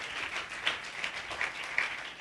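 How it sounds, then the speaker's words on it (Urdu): Church congregation at Living Branch Church clapping together to welcome visitors during a service, a steady, fairly faint wash of many hands with a few louder claps standing out. "آپ سب بھی جتنے آئیے چرچ تالیاں بجا کر انہیں لیونگ برانچ چرچ میں ویلکم کرتے ہیں"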